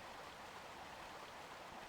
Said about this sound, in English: the current of water